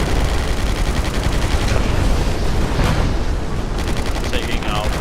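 Battle sounds from the Total Tank Simulator game form a dense, continuous wash of rapid gunfire and rumbling explosions, loud and unbroken throughout.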